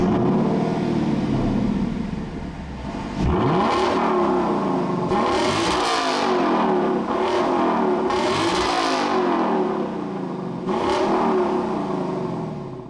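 A 2024 Lexus LC 500 with a naturally aspirated V8 revs repeatedly, each throttle blip rising in pitch and falling away, loud and close with no talking.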